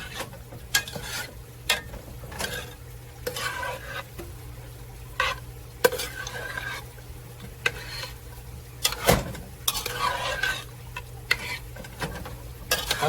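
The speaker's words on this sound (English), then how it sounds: "I'm going to go ahead and give this a quick stir" A spoon stirs butter and green beans in a pot, giving scattered scraping knocks and clicks over a soft sizzle, close by and with no talking.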